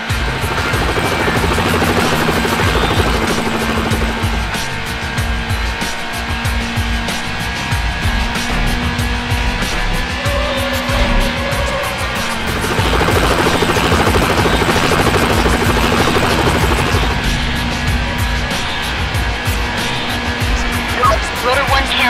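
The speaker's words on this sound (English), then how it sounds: "The chopper is in the air." Police helicopter in the racing game Need for Speed Hot Pursuit 2, a loud steady rotor drone running throughout, mixed with car engine noise and intermittent radio-style voices over the top.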